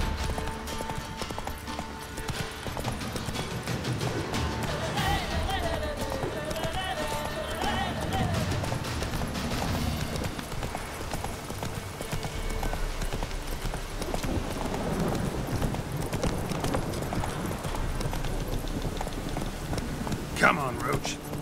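Roach, Geralt's horse in The Witcher 3 Next Gen, gallops with steady, rapid clip-clopping hooves over ambient game sounds, while someone talks over the ride and a brief whinny cuts in near the end.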